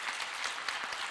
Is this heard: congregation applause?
yes